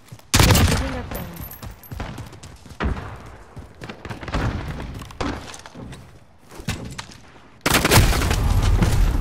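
Bursts of rapid gunfire crackle in a multiplayer shooter game, loud volleys starting and stopping with shattering impacts in between, the firing surging back at full strength near the end.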